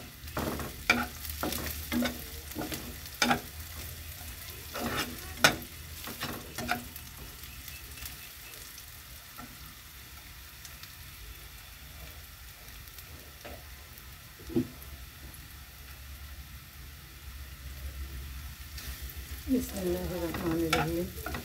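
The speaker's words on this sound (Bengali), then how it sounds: "পেঁয়াজ মরিচটা আদা ভাজা করে নিয়েছি" Onion, chilli and ginger frying in a pan while being stirred, with sharp scraping and clinking strokes from a spatula clustered at the start, then a steady soft sizzle, and a brief louder bubbling burst near the end.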